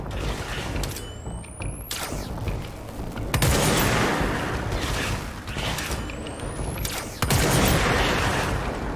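Bursts of video game gunfire aimed at creatures, rapid volleys recurring several times with sharp swooshing shots and mechanical clatter, fairly loud and without talk.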